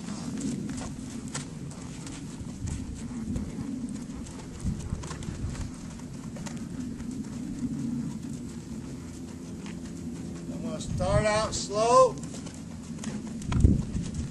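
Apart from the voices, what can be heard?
horse hooves while riding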